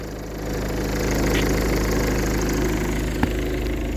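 Ford Focus RS car engine idling steadily as it warms up toward temperature, a continuous low rumble with a faint ticking knock, close and alone, with one brief sharp click near the end.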